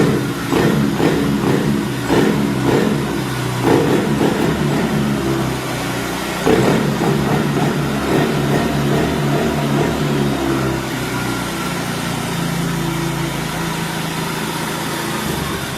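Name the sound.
motorcycle engine starting and revving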